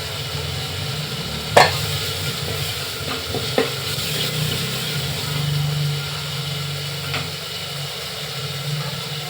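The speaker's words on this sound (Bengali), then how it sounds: "আমি তেলের ওপরে পেঁয়াজটা লাল করে কষে নিয়েছি দিয়ে দিচ্ছি একে একে সব মশলা দিয়ে দিচ্ছি আদা রসুন পেস্ট" Spices and ginger-garlic paste hit hot oil with browned onions in a pan, giving a steady low sizzle with a few sharp scraping clacks of a spoon against the pan.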